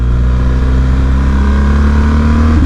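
A BMW R 1250 GS motorcycle engine pulls hard under steady acceleration on a street, a loud, continuous low drone with rising harmonics, close and alone without talk.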